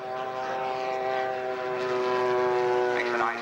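A model Douglas Skyraider flies at an airfield, its propeller engine giving a steady, loud, droning buzz that swells slightly as it passes, with no talk over it.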